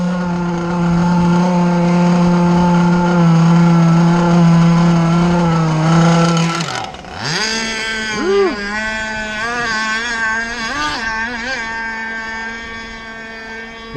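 The engine of an RC Jersey skiff boat runs on water with a loud, high-pitched buzzing whine that holds steady, drops abruptly, then rises and falls in repeated revving swells as the boat moves nearer and farther.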